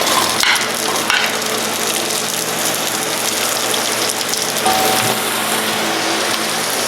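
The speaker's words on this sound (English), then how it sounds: "we're going to add in a little oil. We're going to start off with onions." Onions hit hot oil in a wok and saute with a loud, steady, rain-like sizzle and crackle, close and constant, with a few faint clinks at the start and no speech.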